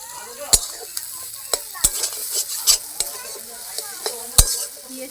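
Potato and bread toast being stirred in ghee in a pan: a soft frying hiss runs beneath sharp, close scraping and clacking strokes of a spatula, spaced irregularly about once a second.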